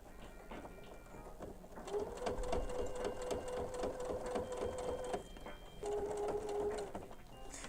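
A sewing machine stitches a seam on a pair of pants being altered, running steadily for a few seconds, pausing briefly, then running again in a shorter burst close by, with no talking.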